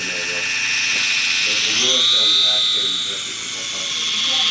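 Black Ghost micro RC helicopter motor whining steadily at close range, its pitch rising as the throttle increases, with someone talking over the buzz.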